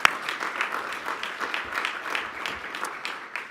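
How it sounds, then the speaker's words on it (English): A school assembly audience applauds steadily for a few seconds, with dense, even clapping from a crowd at moderate volume and a faint murmur underneath. "Round of applause for our sponsor, bringing the kids in."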